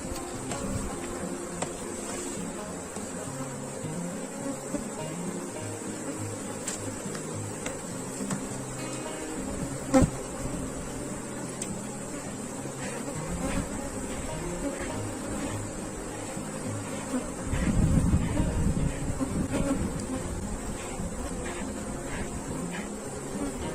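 Continuous honeybee swarm buzzing during a hive inspection, a steady dense drone heard close and alone, with a brief louder low rumble near the end.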